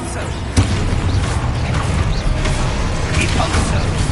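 Expulso explosion spell cast in Hogwarts Legacy on hard difficulty, a loud blast with a sharp burst near the start, then a dense roaring rumble of game effects that continues without letup.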